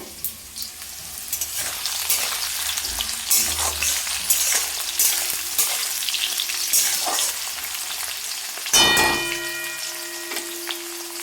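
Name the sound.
pumpkin frying in a pan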